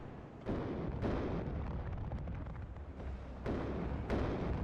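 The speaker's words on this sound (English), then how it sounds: "Heavy incoming rocket artillery to start." A rocket artillery barrage in the video game WARNO rumbles in a continuous wash of distant blasts, with several sharper impacts bursting out over the roar.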